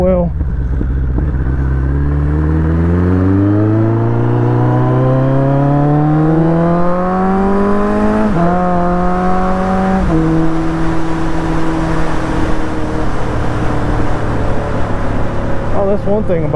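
A commuter motorcycle accelerates along the road on the way to work, its engine note climbing steadily through several gear shifts, loud and close with constant wind rush.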